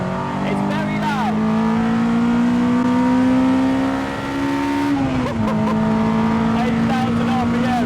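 A K20-swapped Lotus Exige time attack car screams at high revs on track at Silverstone, loud and steady from inside the cabin, with a brief dip at a gear change before climbing again, with voices underneath.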